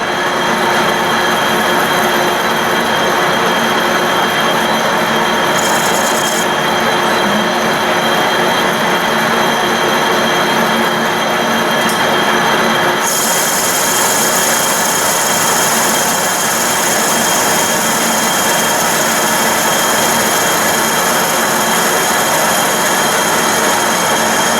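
Steady broadband machining roar of a metal lathe facing off a part in a home workshop, a continuous loud whine and rumble with a shift in tone partway through and no talking.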